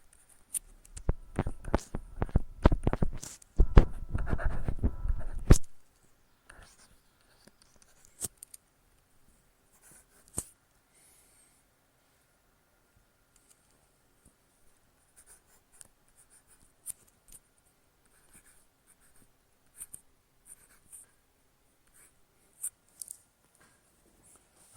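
A pen scratches an equation onto paper in busy, dense strokes for about six seconds, then only sparse isolated taps and small scrapes follow with long quiet gaps between them.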